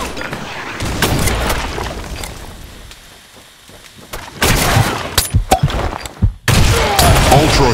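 Video game combat bursts with booming explosions and rattling gunfire, including a grenade blast, loud and chaotic in several heavy surges separated by a brief quieter lull.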